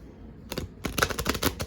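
Quiet rustle, then a burst of quick, crisp riffling clicks as a thin, flexible Golden Girls tarot deck is shuffled up close, repeated in rapid flutters.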